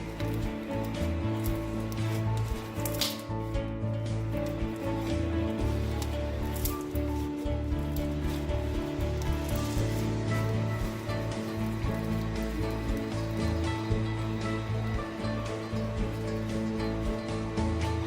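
Foam bead slime is squished and kneaded by hand, giving a continuous dense crackling, wet squelching and popping of the beads, close and steady throughout with no talking.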